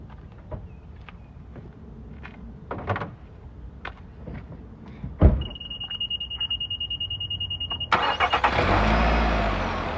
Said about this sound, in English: go start her. Go crank her up.